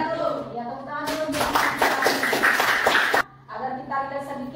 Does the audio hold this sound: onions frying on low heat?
no